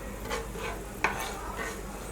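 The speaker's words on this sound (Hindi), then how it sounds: "हमने इसको हल्का सा सौटे करना है" Spices sauté gently in oil that is not very hot, giving a soft, faint sizzle under a few stirring scrapes and one sharp click of a utensil against the pan midway.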